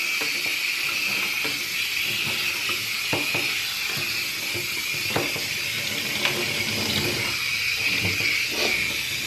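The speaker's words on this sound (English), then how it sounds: "And then we are going to start rinsing." Water spray hisses steadily while rinsing a Cavalier King Charles Spaniel during a bath, a continuous close shower noise with scattered soft splashes and knocks throughout.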